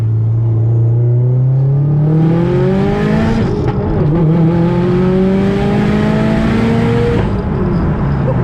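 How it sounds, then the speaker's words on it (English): A fast car accelerates hard through the gears, its loud engine note climbing steeply, dropping briefly at each shift, then rising again, heard from inside the cabin with no talking. "Dude, this thing is so much faster than my car."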